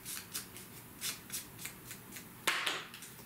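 Scissors or a blade trimming excess scrapbooking paper in a series of crisp, close snips and rustles at an even rhythm, ending in one sharper cut, faint and with no talk.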